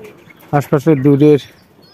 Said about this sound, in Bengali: এই কবুতর দুইটা আগেও একদিন আসছিল